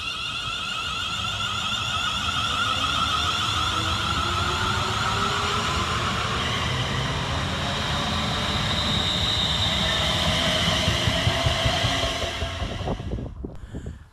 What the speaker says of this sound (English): Getting ready to depart over on the far side, running about 5 minutes late, is 380-115, working the 1538 Scotrail service from North Berwick to Edinburgh